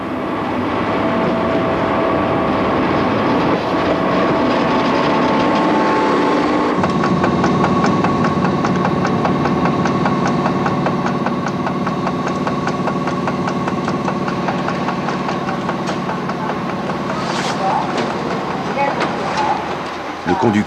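Inside the cab of CC 6524, an electric locomotive coming into Limoges station, a loud steady rumble and hum shift partway through, then settle into a lower whine with rhythmic clicking as the train slows, with faint talk in the background.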